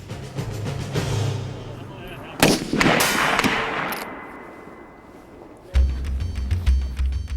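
Sniper rifles fired at range targets set at 100 to 300 yards during FBI hostage rescue training, a few sharp, loud cracks with ringing decay, under and between a voice talking.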